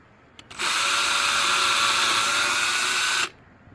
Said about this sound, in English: I'm gonna drill that out next.